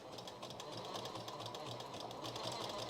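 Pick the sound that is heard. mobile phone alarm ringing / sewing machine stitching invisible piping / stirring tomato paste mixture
sewing machine stitching invisible piping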